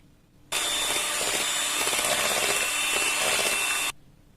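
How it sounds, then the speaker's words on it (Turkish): Electric mixer whisking eggs and sugar at high speed for cheesecake batter, a loud, steady whirring buzz that starts suddenly and runs for about three seconds before stopping, with no voices. "ilk önce yumurtamızı ve şekerimizi yüksek devirde güzel bir çırpalım"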